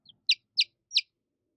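Baby chicks chirp in three quick, high, clear peeps evenly spaced and close by, after a tiny faint chirp, with silence around them.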